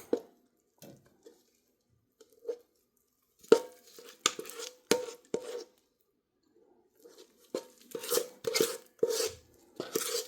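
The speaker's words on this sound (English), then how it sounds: "Add my rum cake mix to it." Dry rum cake mix poured and shaken into a baking pan greased with vegetable shortening, giving scattered soft rustles and taps that cluster into denser bursts of pouring and scraping, close and alone.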